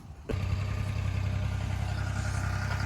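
A Ford tractor carrying paddy rumbles steadily after a sudden onset, its mid-pitched engine drone holding loud and close for a few seconds with no talk.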